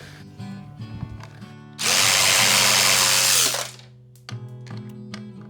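A power driver backs out screws on the carburetor of a Champion 4000 generator: a loud, high whirring burst of about two seconds, set between quieter clicks and handling noises of the tool and parts.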